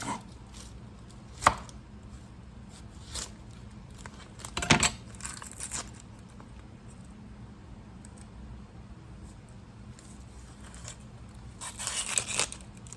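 A knife chops taco ingredients such as tomato on a cutting board in sparse, sharp thuds, a few isolated cuts and then a quicker cluster near the end, close and clear with no talking.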